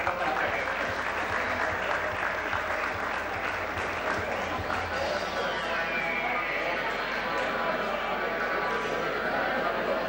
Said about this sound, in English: Please accept the applause